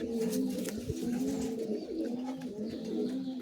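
Giribaz pigeons cooing steadily at a home loft, overlapping low rolling calls close by with faint background noise.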